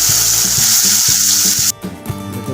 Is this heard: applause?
no